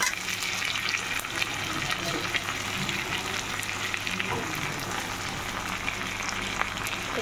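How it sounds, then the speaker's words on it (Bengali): Onions frying in a pan, the oil steady and crackling while cooking pomfret fish curry, a constant close sizzle with faint clinks and no talk. "ভাজা হতে থাকুক, পেঁয়াজটা ভাজা হোক, ভাজতে একটু সময় লাগবে"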